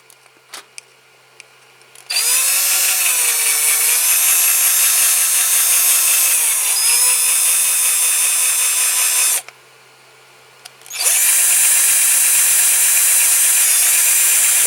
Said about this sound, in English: I'm not pushing, I'm just letting the drill do the work here